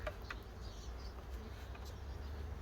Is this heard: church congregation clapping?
no